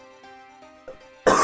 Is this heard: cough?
yes